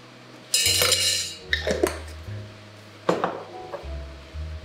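A spoon clinks and knocks against a metal mixing tin as a spoonful of cranberry sauce goes in. A few close metallic taps rise over a steady low hum.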